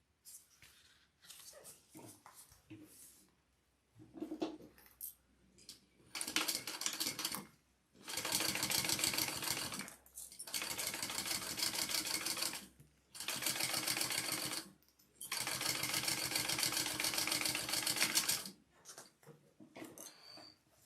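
Sewing machine top stitching a Sue Sue garment, running in several sustained bursts of rapid, even needle chatter separated by short pauses and quieter handling sounds.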